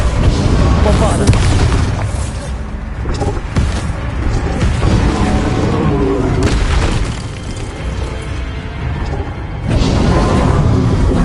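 Bombarda spell explosions in Hogwarts Legacy, loud booming blasts with crashing debris and whooshes in a dense stretch of combat, ending in a fresh burst.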